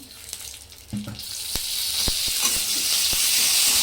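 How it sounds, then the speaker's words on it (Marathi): Green chilies and garlic sizzle loudly in a little oil in a pan, a steady bright frying hiss that swells after the first second and holds, with a few faint clicks and stirring taps. "तर आता इथे मिरच्या पण भाजून घेते मी आणि लसूण, थोडंसं तेल घालायचं आहे."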